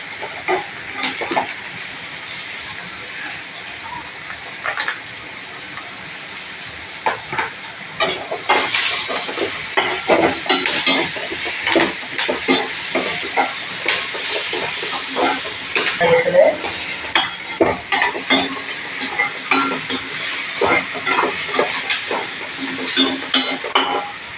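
Curry leaves and onion fry in a pan, a loud hissing sizzle broken by frequent scraping stir strokes, growing busier after the first few seconds.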